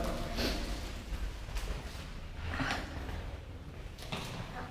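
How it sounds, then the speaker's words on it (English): A small two-person elevator door opening after a button press, a few faint sliding and clunking mechanical sounds spread over a few seconds in a quiet dark space. "And it's open. So we open this door."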